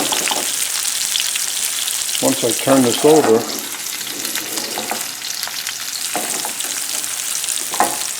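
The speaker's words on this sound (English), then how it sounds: "you need to have fast sizzling like this" Loud, steady frying sizzle of salmon in a pan over the highest flame, with a brief clatter of turning food and a voice speaking briefly near the start.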